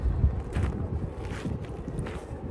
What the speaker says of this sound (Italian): c'è anche un po' di vento.